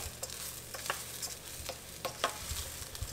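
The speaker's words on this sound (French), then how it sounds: "je vais venir ajouter les 2 tiers de mes chanterelles ou de mes champignons frais" Chanterelle mushrooms tossed into a pan of risotto rice, crackling with a steady quiet sizzle while a utensil scrapes and stirs in soft intermittent strokes, with no voices.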